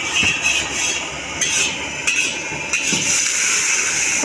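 Fried rice stir-fried in a pan by a village street vendor, with repeated metallic scraping and clinking of a spatula against the pan over steady sizzling frying, close and continuous.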